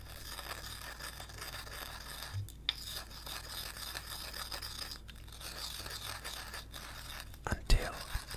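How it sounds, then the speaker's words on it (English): Saffron threads ground in a mortar with a pestle, giving soft rasping, scraping strokes close up, with faint whispering at times and a sharper knock near the end. "putting them in the mortar and pestle into the mortar, and now grinding them with the pestle."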